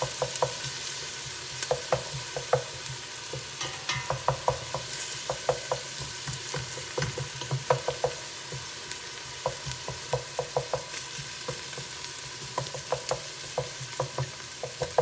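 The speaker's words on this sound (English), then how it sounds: "I love the smell of the saute of garlic and onions together." Garlic and onions sautéing in a pan, a steady hiss of frying under repeated sharp taps and scrapes of a utensil stirring against the pan, close and continuous.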